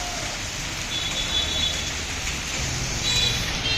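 Rain falls steadily at night on a street by a shop front, a constant broad hiss with a soft low rumble beneath and faint thin high tones drifting in now and then.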